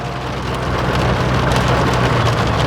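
Steady rain pours down near a road in hill country, a dense, loud and unbroken hiss of drops hitting surfaces, with no voices.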